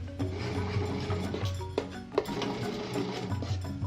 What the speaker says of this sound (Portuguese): agora vamos ligar a máquina e com a espátula nós vamos ajudar a mistura aqui